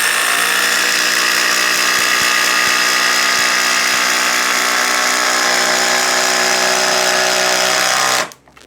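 A Ryobi HP impact driver sinks a 6-inch Timberlok screw with a loud, dense, buzzing rattle of rapid impacts that holds steady for about eight seconds and then cuts off abruptly.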